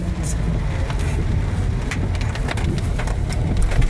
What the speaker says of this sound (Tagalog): Kasi talagang walang tigil yung ulan.